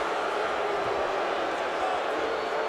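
Stadium crowd booing at a college football bowl game between Clemson and Iowa State, a dense, sustained roar of many distant voices that holds steady throughout without pause.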